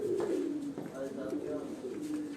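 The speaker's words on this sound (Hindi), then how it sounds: "मुख्तलिफ ब्रीडों के कबूतरों का को क्रॉस करके साजू ने डाबा था कबूतर" Crossbred breeder pigeons coo in a loft lined with individual cages, soft throaty rolling calls repeating close by, while a voice may be talking faintly in the background.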